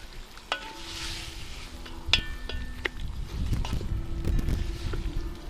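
Kulish, a millet and salt-pork porridge, stirred in a kettle over a campfire: soft scraping and bubbling close up, with a light sizzle and a few sharp clinks of the spoon against the pot.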